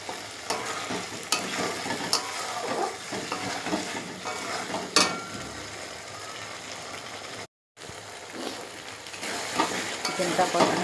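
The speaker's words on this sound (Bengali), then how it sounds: "চিকেনটা দিয়ে দিলাম, মশলাটা কষানো হয়ে গেল।" Chicken pieces and potatoes sizzle and fry with spices in a hot pan, a steady close crackle with stirring scrapes throughout and a brief dropout near the end.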